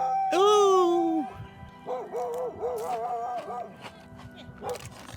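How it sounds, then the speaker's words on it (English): A dog barks and yelps indoors, starting with a long high howl-like bark followed by a string of quick, wavering yips, loud and close. "Best guard dog ever."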